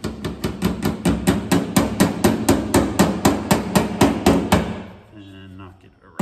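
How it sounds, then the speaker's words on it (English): A small hammer taps a Ford fuel pump lock ring around in quick, even, close metallic knocks, about twenty in a row, before stopping, with a faint voice afterward. "take a little hammer"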